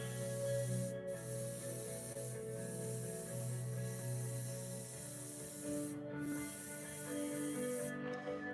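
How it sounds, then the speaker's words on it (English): Steady hiss of air from an airbrush painting setup, driven by an air compressor, heard continuously and close with a low hum underneath and brief dips in the spray. "maybe drown out the air compressor there"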